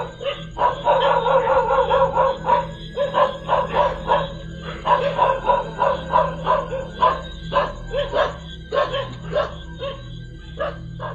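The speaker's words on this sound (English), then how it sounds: "The two domestic dogs of the residents, upon seeing it, immediately began barking toward the mysterious apparition." Two domestic dogs bark repeatedly in quick, uneven bursts, close and loud, with occasional yips and whimpers between barks and no talking.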